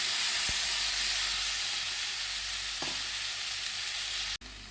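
Fried potatoes and washed chickpeas added to sizzling tomatoes in a pan, a loud, steady, hissing fry throughout with a few faint knocks and a sharp clatter near the end.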